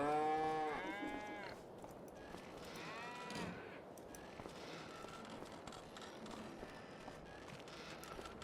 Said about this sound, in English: we have our cow building over here. 17 of 60 cows.